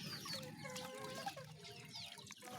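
Chickens cluck and murmur softly after being bathed, a faint cluster of overlapping bird calls close by with irregular short clucks throughout.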